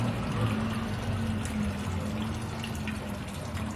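Diesel fuel drains from a removed fuel filter on a 2.2 Ford Transit Mk 8 into a pot, a steady splashing pour that runs unbroken at moderate loudness.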